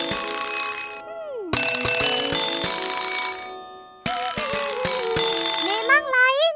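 A cartoon musical alarm clock plays a bright chiming tune in two bursts of electronic bell notes with a short gap between them, loud and close, ending in warbling tones.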